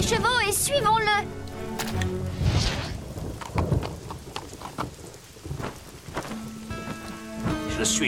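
Steady rain pours with rumbles of thunder, loud and close, while voices speak in French over the downpour in an animated show.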